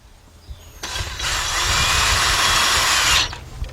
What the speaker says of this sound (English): got my cordless gun, 1/4" drive adapter on here. 2-inch drive, 2-inch 1/4" drive extension with my T30 1/4" drive socket